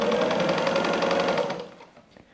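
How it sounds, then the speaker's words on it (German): Sewing machine running a short, small straight stitch along a patchwork seam, a steady rapid mechanical whirring close up that runs evenly, then stops abruptly and leaves faint handling noises. "So schieben wir das unter unsere Nähmaschine und nähen mit einem kleinen Stich"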